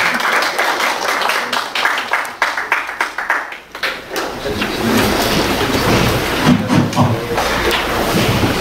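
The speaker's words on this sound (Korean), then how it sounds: "큰 박수로 맞이해 주시기 바랍니다" An audience at an investment pitch event applauds to welcome a presenter, with clear individual claps at first, then a swell of broader, noisier clapping continuing to the end.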